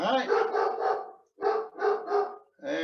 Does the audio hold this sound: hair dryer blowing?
no